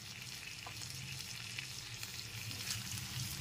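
Potato and eggplant cooking in a pan with kasuri methi, a continuous soft frying sizzle with faint stirring underneath, no voices.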